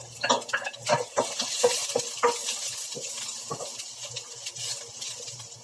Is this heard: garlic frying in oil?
yes